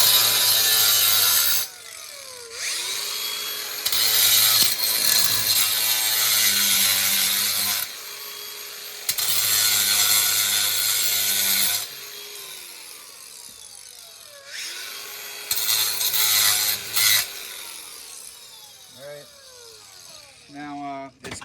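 A grinder cuts down a piece of stone veneer in several loud, harsh bursts with pauses between them, its motor whining as it spins down after each pass; a voice is faintly heard in places.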